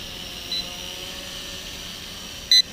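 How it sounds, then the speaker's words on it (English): A JJRC H78G drone's transmitter gives a low-battery warning: a faint short beep early, then a louder, clear beep near the end over a steady background hum. "Getting a beep from the transmitter now."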